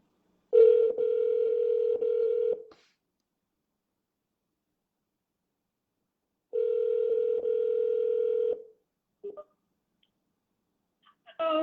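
A steady telephone line tone hums from a dead phone line, heard in two sustained stretches of about two seconds each separated by silence, close and clean, followed by brief clicks.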